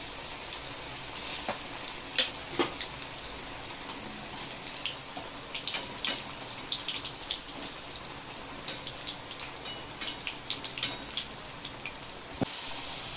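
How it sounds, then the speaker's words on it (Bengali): Eggplant fritters (beguni) frying one by one in hot oil over low heat, giving a steady close sizzle with scattered crackles and pops throughout, no voices. "বেগুনিগুলো আমি একসাথে এরমভাবে একটা একটা করে ভেজে নিচ্ছি"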